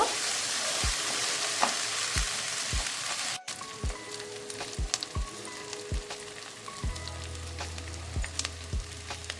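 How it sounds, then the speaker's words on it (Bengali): Spices stir-fried with a little dry red chili powder for potato curry, a steady bright sizzle with regular knocking stirs of a spatula against the pan, close, the frying dropping quieter partway through, with no voices. "আর অল্প একটু শুকনো লঙ্কার গুঁড়ো নেড়ে চেড়ে একটু কষিয়ে নেব"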